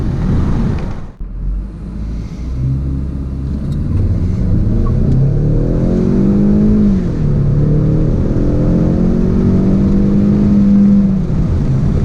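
A 2017 Ford Mustang EcoBoost Premium accelerates from 0 to 60, its engine rising steadily in pitch through the gears in a loud, close, continuous rumbling pull after a brief quiet moment at the start.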